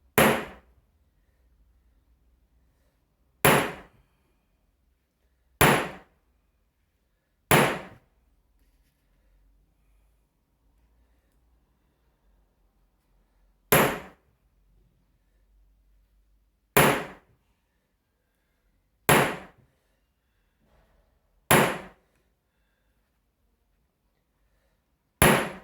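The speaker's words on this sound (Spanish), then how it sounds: "aquí le golpeamos en forma recta el martillo" A hammer strikes a leather hole punch in a series of sharp, isolated knocks, about nine in all, spaced unevenly with quiet gaps between them, close and fairly loud.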